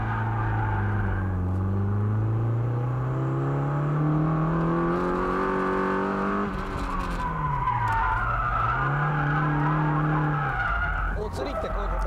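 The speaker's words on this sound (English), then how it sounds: "I began countersteering too late, and then I recovered the countersteer too late. As a result, my car just lost control." Drift car spinning out after a late countersteer: long tire squeal with the engine note rising and falling, sustained and close throughout, with the pitch dipping and surging as the car loses control.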